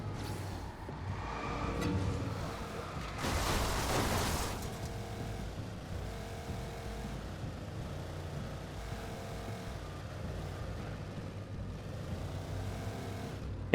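A car driven in the video game Alan Wake Remastered gives a steady low engine drone with a rising surge of revving and wind-like rush early on, then settles into an even hum.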